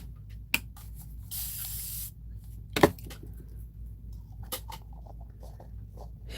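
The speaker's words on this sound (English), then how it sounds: "So I just spray a little there." A hand spray bottle mists into and onto a container lid at a gelli printing art session, a single sustained hiss lasting about a second in quiet surroundings, followed by faint taps and small handling clicks.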